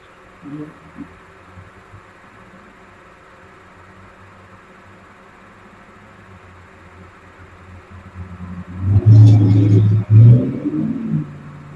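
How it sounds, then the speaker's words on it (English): A truck drives by outside: a low, quiet rumble builds slowly and then swells into a loud, close pass with heavy engine roar near the end, over a soft background hum. "truck going by"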